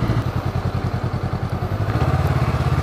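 A 2017 Honda Rebel motorcycle rolls over cobblestone, its engine droning loud and close with a steady rapid rhythmic thumping from the bumpy stones throughout.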